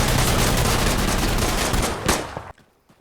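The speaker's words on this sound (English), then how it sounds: "always be careful from these 50 cals. They penetrate through everything." Heavy .50 cal machine gun fire in the shooter game Insurgency Sandstorm, a dense loud continuous barrage of shots that tails off near the end.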